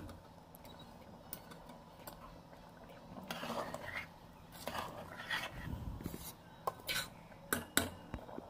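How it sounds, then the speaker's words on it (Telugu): A spoon stirs mutton curry in a metal pot, giving scattered soft scrapes and sharper clinks against the sides, louder taps clustering toward the end over a quiet kitchen background. "ఒకసారి ఇలా తిప్పుకుంటూ ఉందాం."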